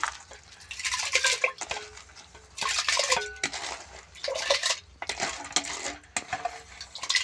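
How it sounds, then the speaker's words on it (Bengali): Dry rice grains for chicken biryani pour into a metal pot in several bursts, rattling and clinking against the sides. "এবার আমি এই চালটাকে একটা হাঁড়ির মধ্যে ঢেলে দেবো।"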